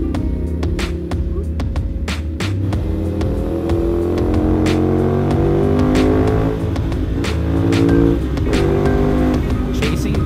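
Motorcycle engines on a road ride, a Ducati Monster chasing a Kawasaki Ninja Z1000, droning and rising through gears close by, with wind noise throughout.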